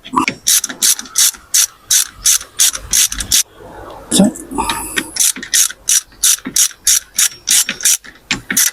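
Hand ratchet working on bolts of a Toyota MR2 engine part, a loud close run of regular clicking bursts with a short pause midway, steady rhythmic pawl clicks throughout.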